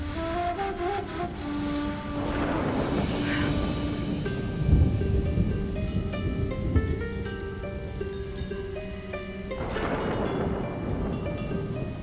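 Heavy rain falling steadily with rolling thunder that swells and fades twice, a dense, constant downpour under layered background music, no talk.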